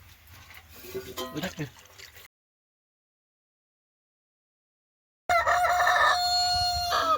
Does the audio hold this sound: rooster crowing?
yes